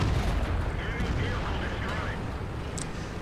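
A World of Tanks battle on the Erlenberg map, where an AMX ELC bis light tank fires a cannon kill shot, heard as a dense, rumbling low blast over continuous battle noise, with a voice commenting over it.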